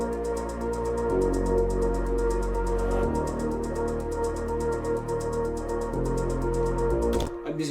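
Sustained synth pad with a string layer from the Flex plugin holds warm chords that shift every few seconds, playing alone at an even volume before a brief brighter flourish near the end.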